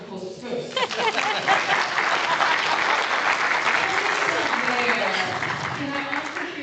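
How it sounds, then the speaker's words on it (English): A room full of people breaks into a dense, sustained round of applause, close and loud, with a voice briefly audible through the clapping. "Let's give you a round of applause first."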